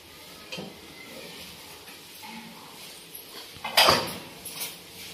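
Half a spoonful of cumin seeds dropped into hot oil, giving a faint, steady sizzle with a louder crackling burst near the end and a few soft kitchen clatters.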